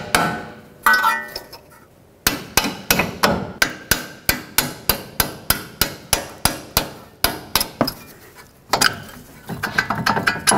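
Hammer blows driving out rusted strut-to-knuckle bolts on a 2009-2013 Honda Fit, a long run of sharp, evenly spaced metallic strikes at close range with brief pauses, no talking.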